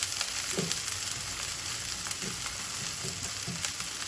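Onions fry in mustard oil in a pan with a continuous loud sizzle, and a few soft stirring scrapes surface now and then.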